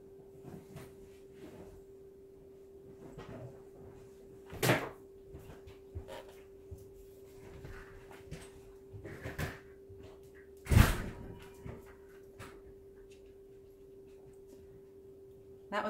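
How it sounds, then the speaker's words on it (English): A house door slams shut as someone leaves for a fire call, two sharp loud thuds standing out from quiet indoor shuffling and small knocks. "That was my husband slamming the door going to a fire call."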